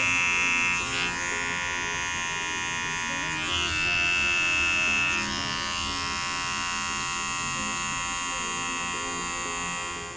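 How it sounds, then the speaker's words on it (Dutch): A small electric hair clipper trims the neckline during a short pixie haircut, giving a steady close buzzing hum with slight changes in pitch as it moves across the hair. "mooi strak af te zetten, gebruik ik een kleinere tondeuze"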